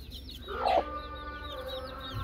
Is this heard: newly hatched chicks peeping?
yes